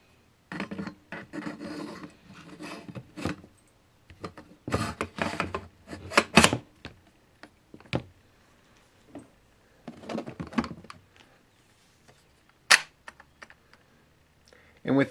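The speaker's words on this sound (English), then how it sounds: "Now from here, you just slide the barrel on." A barrel slides onto a Mossberg 590 shotgun during reassembly, making close, intermittent bursts of metal-on-metal scraping and rubbing with a few sharp clicks and short pauses between them.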